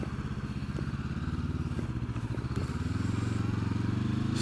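A motorcycle engine drones steadily throughout while riding without a windscreen, its low, pulsing exhaust note loud and close with slight shifts in pitch as the revs change.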